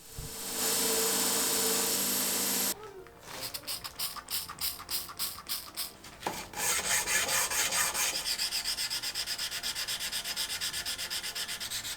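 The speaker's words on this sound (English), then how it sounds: "In the meantime, I continue grinding and sanding the blade." A layered steel knife blade is ground and sanded, first with a steady loud grinding hiss, then with rhythmic back-and-forth hand rubbing strokes, then faster repeated abrasive passes.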